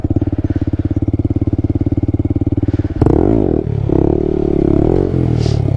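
A Honda Grom idles with a steady low putter, then its engine revs hard into a wheelie with rising and falling whines. The sound is loud and close, with no talk.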